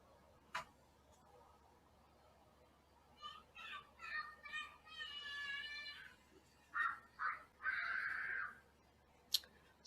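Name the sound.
children playing outside, screaming and hollering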